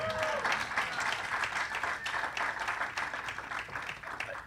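Audience at a comedy club memorial breaking into sustained applause, dense clapping throughout with a voice speaking faintly over it.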